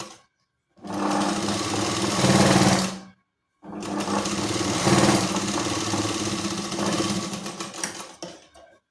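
A sewing machine double-stitching a 1.5-inch strip on a katori blouse runs in two loud, steady bursts of rapid mechanical whirring, separated by a short pause and slowing near the end, with no talking.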